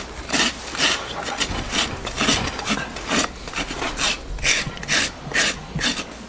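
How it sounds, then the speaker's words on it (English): A rasp filing the edges of a horse's hoof during a barefoot trim, close and loud, in a regular rhythm of about a dozen scraping strokes with no talking. "Now come round and just bevel that, take all them sharp edges off it."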